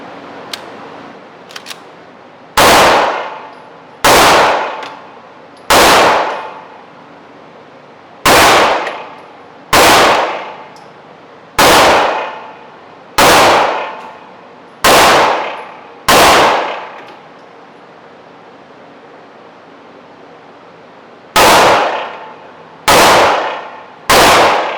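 A CZ P-07 pistol fires at a shooting range. Twelve sharp, loud shots each ring out briefly, spaced at a steady pace, with a longer pause partway through. There is no talk.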